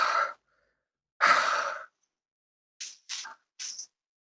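A voice imitates a character's heavy breathing: two long, close breaths followed by three short, sharp huffs, with silent gaps between them.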